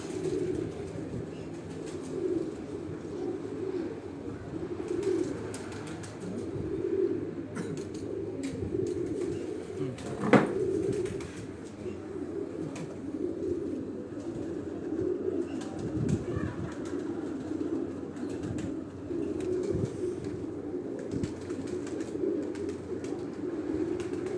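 Several pigeons coo continuously in a breeding loft, a low warbling murmur layered from many birds at close to medium range, with a brief sharp knock and occasional light rustles of movement.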